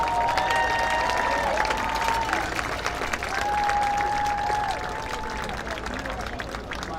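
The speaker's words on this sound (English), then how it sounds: "Big round of applause for our senior football players for tonight." A crowd at a high school football game applauds and cheers for senior players, a steady wash of clapping with whistles and shouts on top that eases off slightly toward the end.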